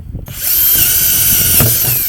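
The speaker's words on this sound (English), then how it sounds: "I'm going to make some holes around this container" A small power drill whirs up and bores into a plastic container for a fruit tree planting, a steady high-pitched grind that starts abruptly after a brief rustle.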